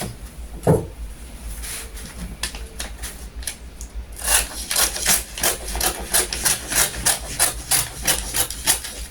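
Scissors cutting a fabric back pattern piece for a red dress, giving a run of quick rasping snips and rubbing strokes that grow denser and louder in the second half, close up with no talking.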